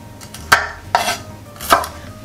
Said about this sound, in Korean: 호두도 4등분으로 잘라주겠어요.